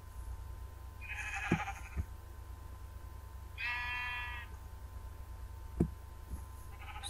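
Three sheep bleats from a video game farm, each a short nasal cry spaced a couple of seconds apart, heard alone over a steady low hum with a few soft clicks.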